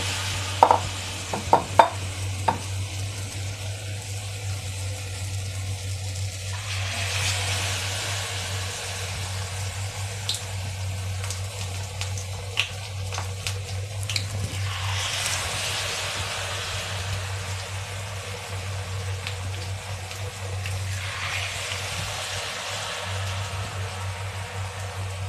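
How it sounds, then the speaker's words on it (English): Banana fritters (pazhampori) frying in hot oil over a medium flame, a steady soft sizzle throughout with a few sharp clicks near the start and gentle swells of bubbling. "Now I'll dip the bananas inside and I will put it in the oil."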